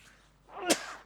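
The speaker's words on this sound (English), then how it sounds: "Sorry, I sneezed." A single sharp sneeze in a quiet radio studio, a short breathy build-up followed by an abrupt loud burst close to the microphone.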